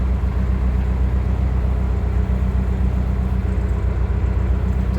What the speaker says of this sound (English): Maybe people like the sound of the traffic.